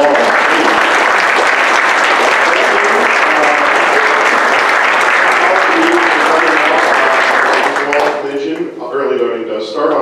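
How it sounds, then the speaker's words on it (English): A crowd at an evening candidate Q&A gives a loud, sustained round of applause, dense clapping close to the microphone that fades out near the end as voices begin to talk over it. "let's give all of our candidates a round of applause"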